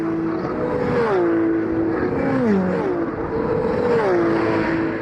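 A Porsche race car from the 2B Autosport team laps the Paul Ricard circuit, its engine howling loudly as it climbs through the revs and drops on gear changes, alone with no talk.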